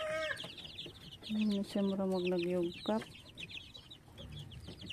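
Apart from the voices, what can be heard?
chicks clucking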